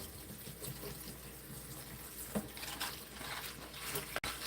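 Yellow chives are rinsed under a running kitchen tap, water pouring and splashing steadily at close range, with a sharp clunk near the end.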